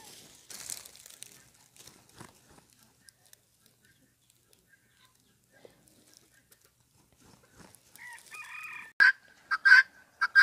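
Free-range chickens and a rooster outdoors, with scattered soft clucks and rustling over near silence before a louder burst of crowing and calls near the end.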